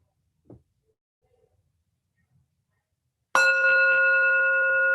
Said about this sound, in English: And as I invite the sound of the bell, we also offer our gratitude